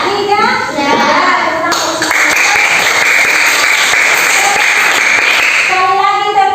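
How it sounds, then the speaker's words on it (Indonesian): A classroom of children claps together in a lively spirit cheer, a dense, loud burst of hand claps lasting a few seconds, with young voices chattering just before and after. "Sekali lagi tepuk semangat."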